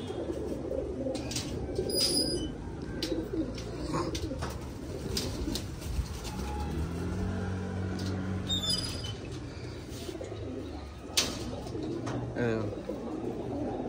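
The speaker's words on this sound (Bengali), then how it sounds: "এই পায়রাটা আমাদের খুবই ভালো পায়রা" High-flying pigeons in a winter loft coo in low, repeated rolling calls, with scattered wing flutters and small clicks and scrapes nearby.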